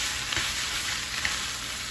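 Vegetable noodles stir-frying in a hot pan, giving a steady, soft sizzle with faint scraping stirs, close and even throughout, with no talking.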